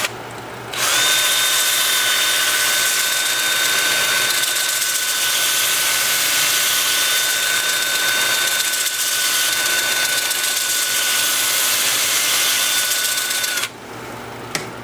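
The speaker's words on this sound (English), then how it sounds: "I'm gonna have the lathe spinning in reverse at about 425 RPM" A wood lathe runs in reverse at about 425 RPM while mesquite is sanded, making a steady high motor whine with a faint grinding hiss, starting and stopping abruptly, with no talking.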